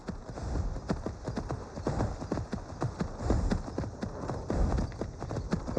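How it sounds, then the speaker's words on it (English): Rapid hoofbeats of a galloping horse in the video game Skyrim clatter steadily up close, with heavy rhythmic breathing running underneath. "Horse is breathing awful heavy."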